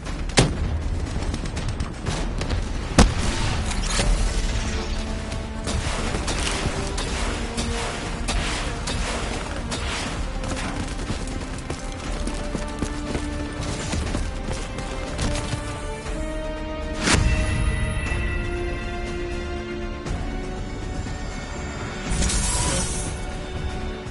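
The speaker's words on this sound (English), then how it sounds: "Javelin missiles inbound." Explosions and heavy gunfire fill a Black Ops 3 campaign battle as incoming Javelin missiles strike, with booming blasts, crackling rifle fire and swelling music across a long, loud, continuous stretch.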